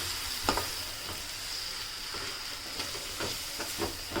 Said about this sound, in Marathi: त्यामध्ये आपण घेणार आहोत बारीक चिरलेला टोमॅटो सुद्धा आपल्याला कांद्यासोबतच चांगलं शिजवून घ्यायचं आहे